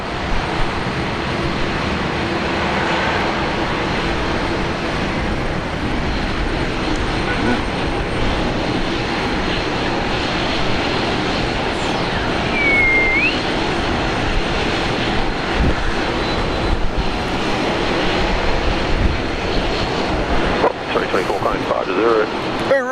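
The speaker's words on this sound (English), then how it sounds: "Jetstar A330, runway 19 left, left over." A Jetstar A330 airliner on runway 19 left at Brisbane Airport makes a loud, sustained engine roar that holds steady throughout, with broadband rumble and a faint rising whine, heard from close range.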